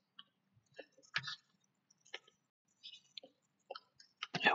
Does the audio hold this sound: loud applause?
no